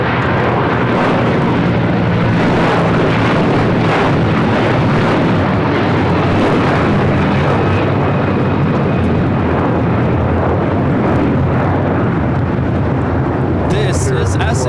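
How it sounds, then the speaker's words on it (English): An SAS Airbus A330-300 airliner takes off for Copenhagen at LAX, a loud, continuous broadband jet roar sustained throughout with steady rumble, heard alongside faint radio chatter. "This is SAS 932 taking off to Copenhagen on the A330-300."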